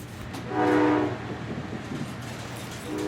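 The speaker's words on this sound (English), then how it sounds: "I cannot tell you the last time I was on an actual train that has this sound" A train rides along the rails with a steady low rumble, and a brief horn-like tone swells up in the middle before fading back into the running noise.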